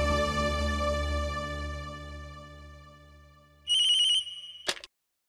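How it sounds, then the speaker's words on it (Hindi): A phone ringtone plays as a call goes out to a heart specialist, with a fading melodic ring followed by a short burst of electronic ringing that cuts off abruptly. "मैं अभी फोन करती हूँ।"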